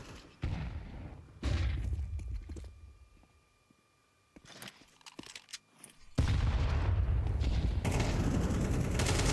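Grenade blasts during a Counter-Strike match: bursts of explosive booms and gunfire-like cracks, loud and broadband, with a quieter lull in the middle before a sustained, intense barrage at the end.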